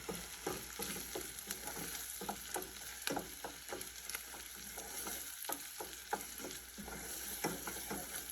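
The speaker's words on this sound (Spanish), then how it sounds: "Vamos a dorar un poquito esta cebolla" Onion browns in a pan with a low, continuous sizzle, punctuated by frequent light scrapes and taps of a utensil stirring it.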